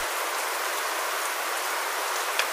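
Steady rain in the Star Stable horse-riding video game, a constant hiss of falling drops with no other sounds, even and moderately loud throughout.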